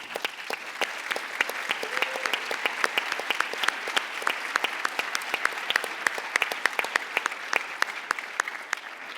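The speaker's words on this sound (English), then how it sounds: "I think you all deserve a round of applause." A large audience at an evening event with Governor Gretchen Whitmer and Chris Wallace claps for the students in sustained, dense applause, many crisp individual claps crackling over a continuous roar for about nine seconds with no talking.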